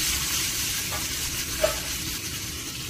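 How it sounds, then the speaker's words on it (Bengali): Medium-sized sarputi fish fry in hot oil for a curry, making a steady close hiss and sizzle with a faint pop, and no talk. "মাছগুলো এখন আমি সুন্দর করে ভেজে নিব।"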